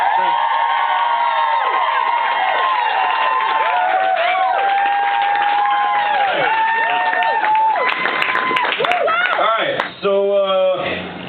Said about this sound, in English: Can we hear some applause for them, please?